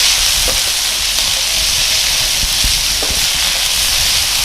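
Carrot, baby corn, peas and beans sautéing in a pan for an omelette, a steady close hiss and sizzle with faint stirring knocks and no talking.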